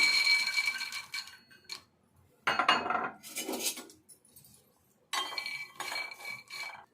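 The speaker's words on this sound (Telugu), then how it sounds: "ఇప్పుడు ఫస్ట్ అయితే ఈ పల్లీలు దోరగా వేపుకోవాలి" Peanuts dry-roasting in a pan for pakoda: bright clinking and rattling bursts as the nuts are stirred and tossed against the metal, in several separate spells with quiet gaps between.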